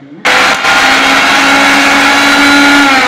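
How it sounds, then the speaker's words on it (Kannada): A kitchen mixer grinder starts abruptly and runs at full speed, grinding tender sandalwood leaves into a tambuli mixture. A loud, steady motor whine holds throughout after a brief quiet start. "ನಂತರ ಜಾರ್ನ ಮುಚ್ಚಳ ಹಾಕಿ ಮಿಕ್ಸರ್ ಮೇಲೆ ಇಟ್ಟು ಚೆನ್ನಾಗಿ ರುಬ್ಬಿಕೊಳ್ಳಬೇಕು."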